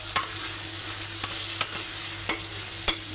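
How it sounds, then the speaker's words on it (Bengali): A hilsa fish head goes into a pan of spiced water lily stems frying in oil, giving a steady close sizzle broken by several sharp stirring scrapes at roughly even intervals. "এখন আমি ইলিশ মাছের মাথা দিয়ে দেবো"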